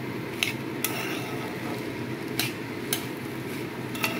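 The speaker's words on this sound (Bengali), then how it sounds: "দেখো, নাড়াতে থাকছি, মেশাতে থাকছি।" Banana stem curry with potato being stirred in a pan, with sharp spoon clacks against the metal at irregular intervals over a low background hiss, fairly quiet and close.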